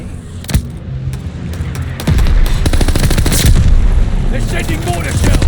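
In the Call of Duty Vanguard video game, heavy gunfire and incoming mortar shells crash and explode in loud, dense bursts that grow into a sustained barrage, with a voice talking underneath.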